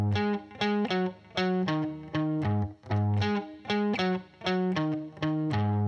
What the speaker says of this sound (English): The next riff we'll learn is a classic blues shuffle bass line.